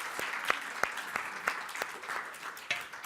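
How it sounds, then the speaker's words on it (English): Faint, sparse applause from a small audience at a climate justice panel of a people's forum, a few distinct claps in a loose rhythm against a quiet room. "Give him a big round of applause."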